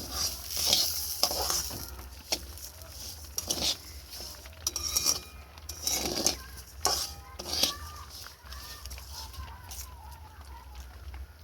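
Rice being dry-fried in a pan with raisins and cashews for semolina-rice payesh, a spoon scraping and stirring against the pan in repeated clinks over a soft sizzle, close and moderately quiet, no talking.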